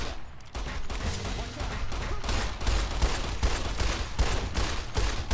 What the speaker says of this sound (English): There's shooting going on.